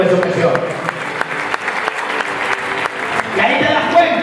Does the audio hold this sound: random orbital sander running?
no